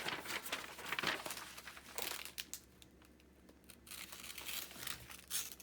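Very old paper is folded and crinkled close to the microphone, giving bursts of crackling rustles with quieter pauses between handlings.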